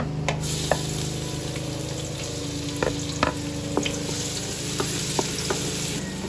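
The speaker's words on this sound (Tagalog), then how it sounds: "nilalagyan ko na po ng langis o mantika ang kawali. Lalagay ko na po ang bawang" Garlic fries in oil in a pan at the start of a spaghetti sauce, giving a steady close sizzle with occasional sharp pops and spatters.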